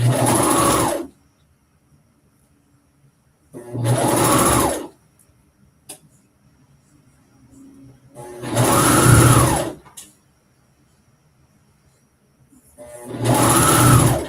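A serger overlocks and finishes the raw edges of knit fabric for a top in four loud, close bursts of whirring stitching of about a second each, separated by quiet pauses.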